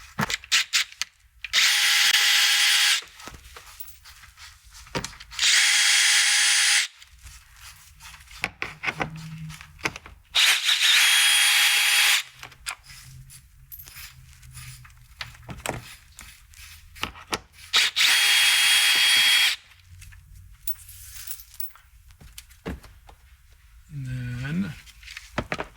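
A power drill spins out 5/16-inch fender liner bolts on a RAM Power Wagon: four loud, sustained whirring bursts separated by quieter gaps with faint handling noise, ending in a short low mechanical sound.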